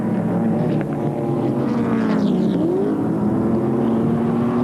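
Touring cars, a Holden Commodore and BMW M3s, race at Calder in 1987, their engines a loud continuous drone with a rising then falling pitch sweep as one passes.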